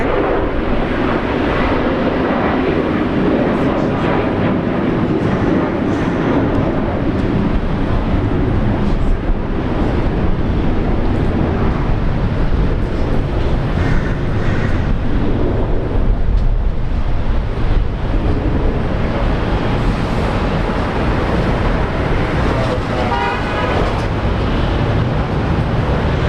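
An Airbus A320neo departs Brisbane Airport for Auckland, its jet engines a loud, continuous broadband roar that holds for the whole stretch, mixed with wind buffeting on the microphone.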